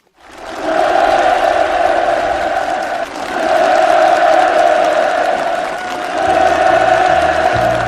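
Enthusiastic applause from participants at a farm housing ceremony where new home permits are handed out, a dense, sustained crowd clapping that briefly dips and then swells again.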